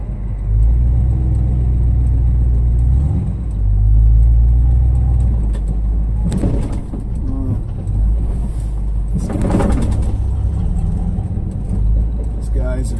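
A 1978 Chevrolet K5 Blazer driving through Sunday traffic after a cold start, with a steady close engine rumble, some revving and road noise, and someone talking over it.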